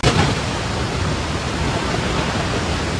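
A swollen river rushes past in a dense, continuous roar of churning water, loud and close, with no voices.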